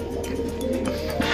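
Pigeons in a loft coo softly and flutter as they fly about, a steady low murmur of birds with light wing flaps throughout, no talk.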